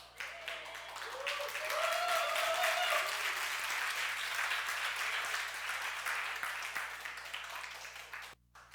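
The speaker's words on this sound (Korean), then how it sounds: "토라를 가져서 박수를 치신 거예요?" A church congregation claps in sustained, moderately faint applause during a sermon, swelling and then tapering off, with a brief voice rising over it early on.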